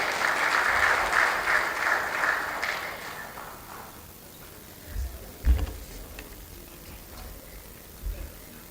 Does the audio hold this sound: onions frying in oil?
no